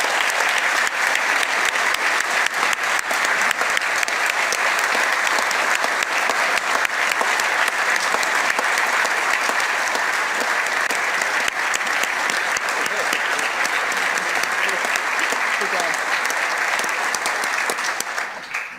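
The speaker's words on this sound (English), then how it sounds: "Would you all mind giving Commissioner Jim Terwilliger and his team a round of applause for their fantastic work?" Long, loud, sustained round of applause from the audience at a governor's 2023 budget address, continuous dense clapping that fades slightly at the very end.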